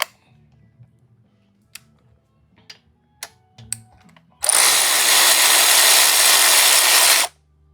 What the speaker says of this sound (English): Then we'll remove the 4 screws and put them back where they belong.